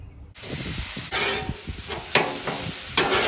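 Ground meat sizzles on a Blackstone flat-top griddle for a loose meat sandwich, with a steady frying hiss broken by spatula scrapes and stirring clatter close by, no voices.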